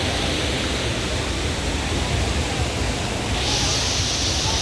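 Taytay Falls in Majayjay, Laguna pours in a loud, steady roar of rushing water, a dense unbroken wash that stays constant from start to finish with no voices.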